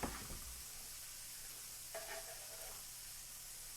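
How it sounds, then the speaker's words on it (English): Garlic added to sautéed vegetables in a pan, a faint, steady sizzle with a brief louder crackle partway through, quiet and alone. "Now I'm going to go ahead and add in my garlic."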